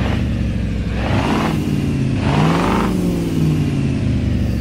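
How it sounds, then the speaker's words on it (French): A truck engine revving in Euro Truck Simulator 2, two rising surges of engine pitch over a steady idling drone, loud and close, no voices. "On donne un petit coup de gaz."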